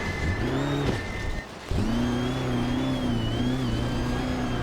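Rally car engine revs hard in a virtual rally game, onboard on a special stage, rising and falling through gear changes with a brief lift-off dip before climbing again, loud and continuous.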